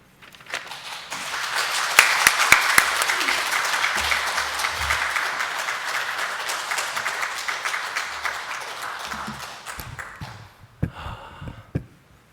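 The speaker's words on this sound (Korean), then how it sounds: "우리 나오실 때 뜨거운 박수로 좀 환영해 주시면 감사하겠습니다." A Sunday worship congregation gives a warm round of applause to welcome a visiting pastor, building quickly to a loud, sustained roar of clapping that tapers off near the end, with a few low thumps and movement noises.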